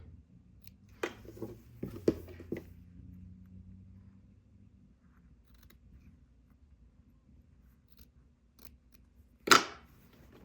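Scissors snip through fabric while cutting a welt pocket opening on a pullover, a quick cluster of close, crisp cuts followed by quiet and one last sharp snip.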